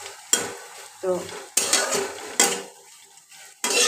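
Three eggs fry in a pan for pasta and are stirred with a utensil, bursts of close scraping and clinking strokes repeating over a steady soft sizzle, with one brief spoken word.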